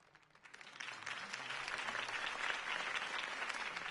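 Crowd applause for Harvey Dent's campaign speech in a PS4 Batman game, a fairly faint, distant-sounding wash of many hands that swells after a quiet start and holds steady.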